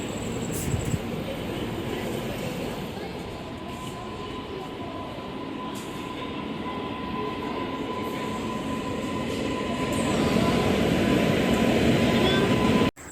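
Passenger train running at night, heard from inside the carriage: steady loud rumble and rattling wheels on track with a faint sustained hum, swelling louder near the end before a sudden cutoff, with brief faint voices early.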